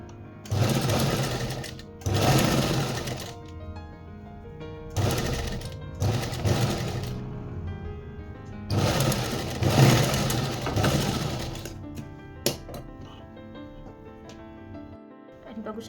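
A sewing machine stitches a blouse cup in repeated loud bursts of running motor and needle clatter, separated by short pauses, with someone talking over the stitching.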